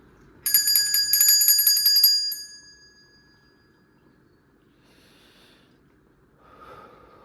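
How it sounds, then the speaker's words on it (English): A bell rung once with a bright, shimmering, tremolo-rich tone that rings for about two seconds and fades, leaving near silence with faint breathing afterward. "let me ring the bell."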